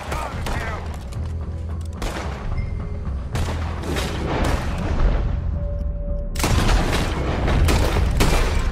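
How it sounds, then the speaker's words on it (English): Gunfire in the Red Dead Redemption 2 video game: dense, sustained volleys of shots and booming blasts, loud and close throughout, building into a heavier burst near the end, with no voices over it. "Put every bullet you've got in him!"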